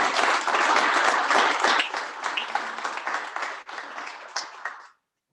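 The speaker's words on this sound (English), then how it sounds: "Round of applause." An audience at a startup competition final round breaks into loud, close applause that gradually thins into scattered claps before stopping abruptly.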